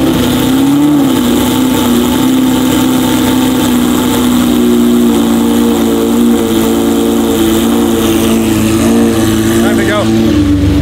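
Supercar engines, including a McLaren P1, idle loudly inside an enclosed tunnel, giving a steady, droning, reverberant rumble with slight pitch shifts throughout, while voices talk over it.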